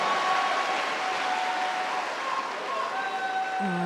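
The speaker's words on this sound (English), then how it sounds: "Each and every point won by the Koreans, greeted with rapturous applause." Rapturous arena crowd applause during a Korea Open badminton doubles match, a continuous loud wash of clapping and cheering that holds steady throughout.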